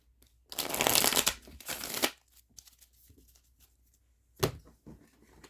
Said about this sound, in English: Let me shuffle up.